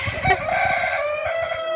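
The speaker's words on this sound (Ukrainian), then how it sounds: "Та які гусі, то курочки, Настюш." Chickens cluck and murmur nearby, a low busy chatter of fowl with a brief louder call near the start.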